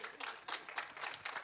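An audience applauds at a movie trailer launch for Jatt and Juliet 3, a faint, uneven patter of clapping heard from a distance.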